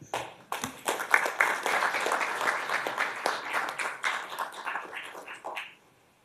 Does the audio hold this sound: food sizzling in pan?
no